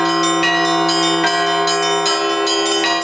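Church bells peal together at a diocesan bell-ringing festival, many sustained overlapping tones with fresh strikes roughly every half second to second, loud and close, ringing continuously with no voices.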